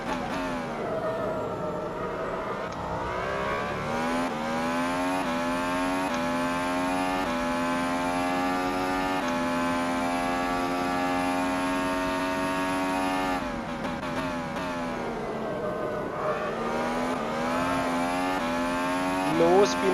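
F1 car engine in rFactor 2 during an Austrian Grand Prix test session: a high-pitched, continuously revving racing engine whose pitch climbs and drops through gear changes, loud and steady for the whole stretch, with some talk possible beneath it.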